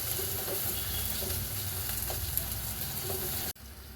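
Tomatoes sauté in a pan as the base of a dried prawn, jackfruit seed and raw mango curry. A steady close sizzle runs with a few faint stirring clicks, then it stops abruptly near the end.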